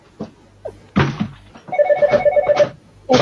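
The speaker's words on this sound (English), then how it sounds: "Oh, unfortunately, the phone is ringing." A telephone bell ringing in a repeated electronic trill, loud and close, with a few thumps before it and between bursts and no talk.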